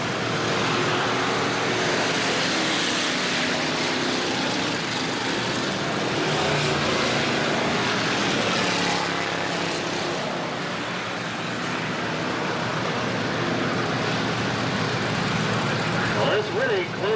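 Race cars roar past continuously on the Bureau County Speedway oval in 1989, a loud, sustained engine drone that rises and falls as the pack circles, with a commentator talking over it.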